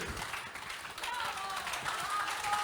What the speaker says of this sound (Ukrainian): ми не зупиняємося аплодувати